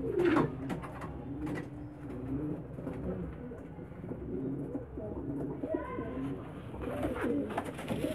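Pigeons coo softly in low, throaty, repeated phrases around a loft where birds are being treated for canker, with faint shuffling and background murmur between the calls.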